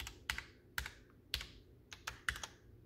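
Individual keys clack on a Ducky Year of the Rat hot-swap mechanical keyboard, about eight crisp, close presses arriving at an irregular pace with nothing else audible.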